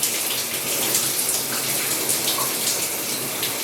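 Tap water runs steadily and close for rinsing curly hair, a continuous loud broadband splashing hiss with no pauses.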